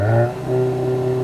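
A Volkswagen Golf GTI engine revs up close and loud, holding a steady high-pitched drone as it presses against the soft limiter.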